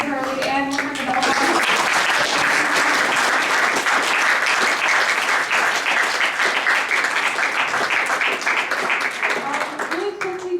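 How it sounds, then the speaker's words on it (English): A lecture audience at Temple University applauds the speakers with sustained, full clapping that holds steady for about ten seconds, briefly under a voice at the start and end. "give another round of applause to Julia Hurley and Mohammed Omer"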